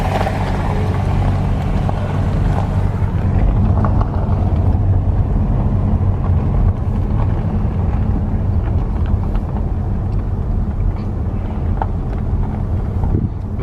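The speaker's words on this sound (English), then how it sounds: "I'm gonna go past this car here" Continuous engine and road rumble from a car driven past another vehicle on a road through Fossil Rim Wildlife Center, steady and close, with buffeting wind noise on the microphone and no talk.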